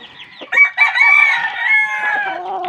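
A rooster among backyard chickens and a brood hen in Pampanga crows once, loud and close, with a short cluck before it and a trailing fade.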